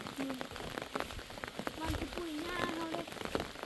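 Heavy rain pours down in a dense, continuous patter across the whole stretch, with a faint voice murmuring somewhere beneath the downpour.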